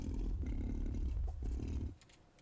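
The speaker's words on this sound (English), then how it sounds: "We got tiger growling." Tiger growling as a stock sound effect in DaVinci Resolve, a deep rumbling growl in pulsing surges for about two seconds, loud and alone, then fading out.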